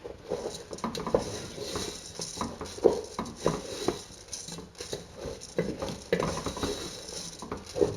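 Sausage and arborio rice are stirred in an oily pan, giving repeated scraping and patter with light utensil taps and a low sizzle, close and fairly quiet.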